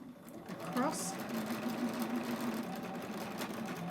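A sewing machine top stitches across a pressed-under end and along a folded edge of a scrub cap, giving a steady, even whirring drone throughout at low volume.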